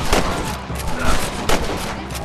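Loud, dense gunfire in Red Dead Redemption crackles in an unbroken barrage over a rumbling low end, with several heavier shots standing out in the close battle.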